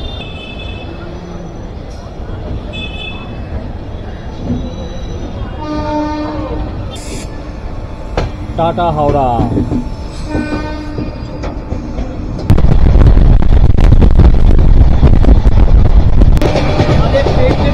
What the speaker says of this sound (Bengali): আমাদের ট্রেন কিন্তু জাস্ট ছাড়লো।